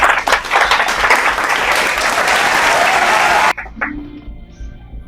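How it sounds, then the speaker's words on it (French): A loud burst of audience cheering and applause at a business seminar, dense clapping with shouts that stops abruptly after about three and a half seconds, followed by faint voices. "je vais entendre les acclamations de là où vous êtes"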